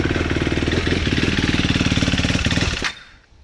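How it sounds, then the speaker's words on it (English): A 2014 KTM 390 Duke motorcycle engine with an idle circuit fault idles with a rough, rapid pulsing chug, then sputters and dies out, leaving near silence at the end. "As for the idling though, it's still stalling."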